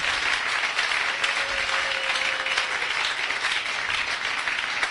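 A church congregation applauds God in a sustained, dense wash of clapping that stays even and loud for the whole stretch, with no individual claps standing out.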